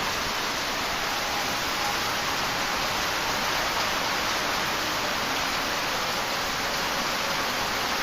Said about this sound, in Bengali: বাইরে প্রচুর বৃষ্টি হইতে আজকে